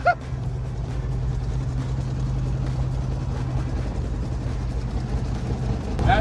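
A 1969 Chevrolet Camaro limping along on a failing tire toward a highway exit, heard as a loud, steady engine and road drone close up from start to finish.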